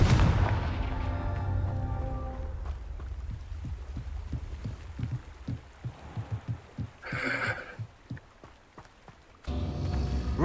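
Confringo spell blasts from the video game Hogwarts Legacy land as a run of dull, booming thumps, several in quick succession over a low rumbling game soundscape, with a brief brighter magical shimmer midway.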